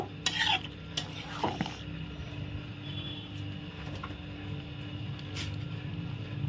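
A spoon stirs a curry of young goat liver and green jackfruit after ghee and garam masala go in, with a few sharp scrapes and clinks against the pot over a soft, low sizzle.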